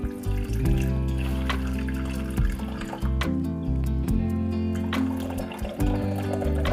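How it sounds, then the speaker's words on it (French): Hot water, measured out to 200 ml, pouring steadily into a container, a continuous close rushing stream with a few brief breaks and changes in flow. "je vais mettre de l'eau chaude. Donc voilà, je prends de l'eau chaude"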